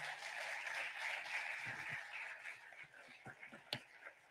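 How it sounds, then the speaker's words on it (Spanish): An audience applauds at an award presentation during a talk on gut microbiome, the clapping fairly faint and distant, fading out into scattered claps and light knocks toward the end. "Un fuerte aplauso, por favor, para Joana."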